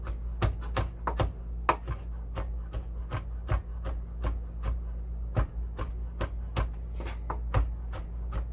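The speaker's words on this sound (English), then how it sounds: "I'm gonna give this a pretty good chop here because I want it to go all the way through." A kitchen knife chops pico de gallo ingredients on a cutting board: a long run of sharp, close knocks in an uneven, fairly quick rhythm, alone without talk.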